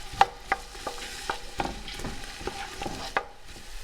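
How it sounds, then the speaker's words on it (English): Onions sauté in melted butter in a pan with a soft, close sizzle broken by sharp clinks and scrapes of stirring at irregular intervals, no voices. "I'm going to add the onions now, and we're going to saute these for about 2 to 3 minutes."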